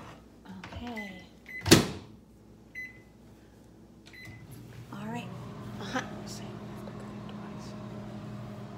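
A microwave oven hums steadily as it cooks an elixir, with a sharp beep or button press early on and then a low continuous drone under people talking.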